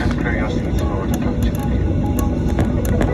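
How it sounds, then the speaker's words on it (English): A Ryanair Boeing 737-800 airliner taxiing onto the runway, heard from aboard, makes a loud, steady engine roar and rumble throughout, with a voice mixed in. "Now we're holding short. And we're turning onto the runway."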